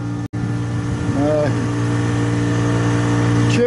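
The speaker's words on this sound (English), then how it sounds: "Chipper friend is over there chipping up some more chips for me." A wood chipper runs steadily at a distance in a garden setting, a continuous droning engine roar with a brief dropout near the start and a short rising whine partway through.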